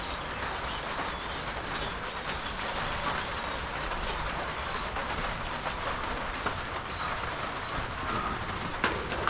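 Steady rain falls in a soft, even hiss that continues without a break, fairly faint and with no one talking.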